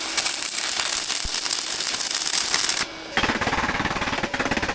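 A Sefaspe MIG 200 PRO welder runs a stick welding arc on a flat workpiece, a loud, steady crackling sizzle that cuts out briefly near the end before resuming, close to the microphone.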